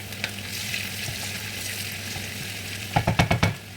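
Onions, pepper and curry powder frying in a little oil in a pot, a steady broadband sizzle throughout with a burst of sharp stirring scrapes near the end.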